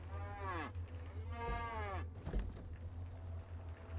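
A cow in the survival building game Scrap Mechanic moos twice in long drawn-out calls, close and fairly quiet over a low steady engine-like hum.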